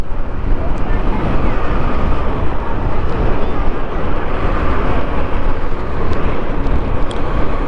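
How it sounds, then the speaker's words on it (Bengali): Strong wind buffets a microphone on a highway between Dhaka and Chattogram, a loud, continuous low roar of rushing air and road rumble with no break across the whole stretch. "বাতাস আছে প্রচুর বাতাস আছে হাইওয়েতে"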